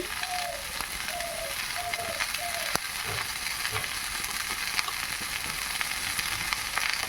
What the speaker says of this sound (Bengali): এভাবে ভালো করে নেড়ে চেড়ে ভেজে নেব গ্যাসের আঁচটি কিন্তু আমি বাড়িয়েই রেখেছি